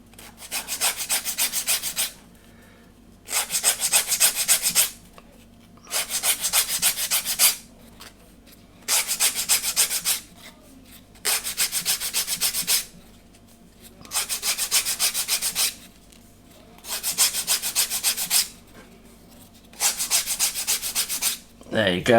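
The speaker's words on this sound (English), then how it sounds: "So yeah, I'm gonna just put this chamfer in along the full length." Filing a chamfer along the full length of a wooden plank for a Vanguard Models HM Sherbourne ship model: nine long, rhythmic rasping strokes, each about two seconds with short pauses between, close and steady with no talking.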